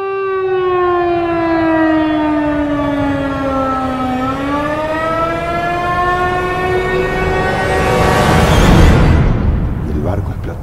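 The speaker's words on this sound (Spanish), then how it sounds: "se escucha una sirena intensa que taladraba los oídos" A loud, piercing siren wails before the Graf Spee explosion, holding a steady tone that dips and then rises again before a burst of broadband noise swells near the end, with talk underneath.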